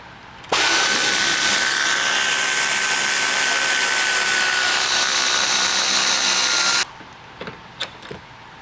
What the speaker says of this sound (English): next we're going to use a 15mm socket to remove this lower bolt right here.